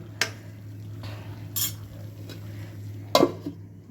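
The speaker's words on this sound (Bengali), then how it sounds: "অল্প একটু পানি দিয়ে এটাকে একটু কষিয়ে নিচ্ছি" A metal spoon scrapes and clinks against a pan while onion-and-chilli masala is stir-fried with a little water, giving a few distinct sharp knocks over a faint steady background hum.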